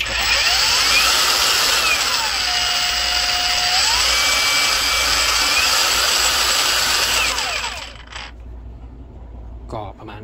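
A 2023 ZARINO 229V cordless battery angle grinder spins with a loud, high whine that steps down and back up in pitch as its speed levels change, then winds down and stops, followed by a few faint clicks.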